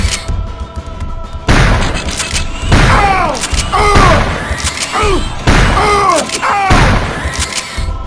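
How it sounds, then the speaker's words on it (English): Repeated shotgun blasts from Turok 2 on the Xbox, heavy booming shots spaced by a slow fire rate, each one loud and close, layered with other game effects and bursts of chatter. "the only bad thing about the shotgun is the slow fire speed"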